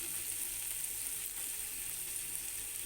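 Two whole garlic cloves frying in hot oil for a dried-fish shutki bhuna: a soft, steady, continuous sizzle and hiss, heard close with no voices.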